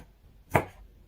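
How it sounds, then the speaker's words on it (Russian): A single short knife chop through red and green paprika on a board, cutting the peppers into triangles; one crisp, close stroke in a quiet kitchen. "Беру часть красной паприки и зеленой. Срезаю прожилки посередине и режу затем на треугольники."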